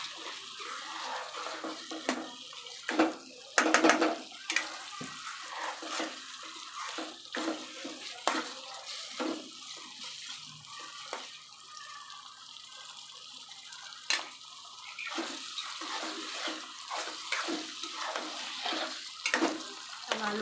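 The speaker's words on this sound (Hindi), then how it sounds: "थोड़ी देर 1 मिनट से भूनेंगे।" Cluster beans and potatoes fry in a pan with a steady hiss, joined by irregular close clinks and scrapes of stirring, moderately loud and continuous, with no clear speech.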